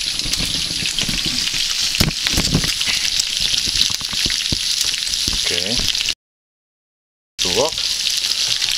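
Pork sizzling and frying in a pan for goulash, a steady close crackle with scattered sharper pops and stirring clatter, a voice talking over it, then a brief cut of silence before the sizzle resumes.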